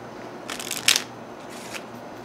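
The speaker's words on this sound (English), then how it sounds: "We're gonna shuffle it up." A deck of playing cards is shuffled in a few quick riffling bursts, close and fairly soft, over a quiet background hiss with no talking.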